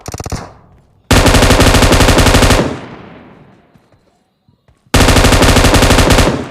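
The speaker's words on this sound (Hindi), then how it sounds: "और स्कूल में तो फायरिंग साउंड आ रहे होते हैं" Automatic gunfire in the mobile battle-royale game PUBG Mobile rattles in loud, rapid bursts: a short one, then a long sustained stream fading into echo and quiet, then another dense burst starting abruptly.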